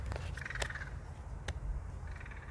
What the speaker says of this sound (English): that's just some crows making some fun sounds